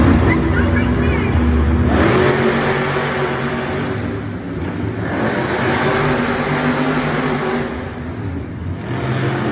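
Monster trucks race at a Monster Jam arena event, their engines roaring loudly and steadily with surges of revving, while an announcer speaks over the noise.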